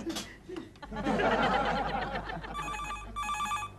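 An old-style telephone bell rings in two clear bursts near the end, following a stretch of chuckling and laughter in a domestic comedy scene.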